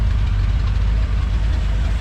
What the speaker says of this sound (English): Listen to that exhaust. I mean, it's blowed out by right there.